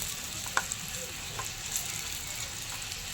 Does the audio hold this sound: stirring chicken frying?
yes